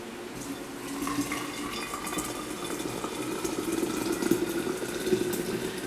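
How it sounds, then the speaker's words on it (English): Hot water poured for a detox herbal brew, a steady close liquid stream running without pause and building slightly in level, with no talking over it. "And then I'm going to take this hot water,"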